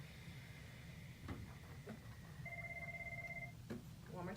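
A classroom telephone gives a short electronic ring partway through, a single steady tone burst heard faintly over low background noise, with faint sounds from the room before and after.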